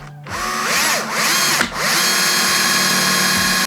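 A power drill with a 10 mm bit bores a hole while building an electric mountainboard, a loud close whine that sags and rises in pitch as the bit loads up, then runs steadily before cutting off.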